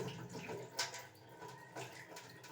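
Ration rice swished and rinsed in water, with soft sloshing and a couple of splashier swirls, close and quiet, no talking.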